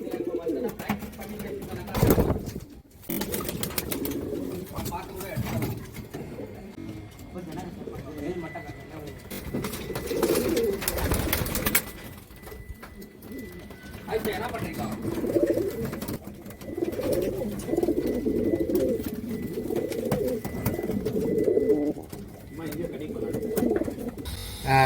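Pigeons coo softly in a loft, low murmuring calls repeating throughout beneath someone talking nearby.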